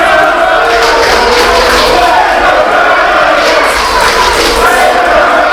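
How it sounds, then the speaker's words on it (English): Wrestling fans cheer and roar continuously at a live pro wrestling title match, a loud dense crowd din that stays steady and close throughout. "the fans are cheering on Edgar"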